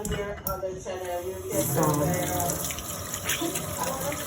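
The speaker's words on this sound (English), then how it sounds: "wash my hands again" Tap water runs steadily into a kitchen sink while hands are washed before cooking Jamaican food, a continuous splashing gush.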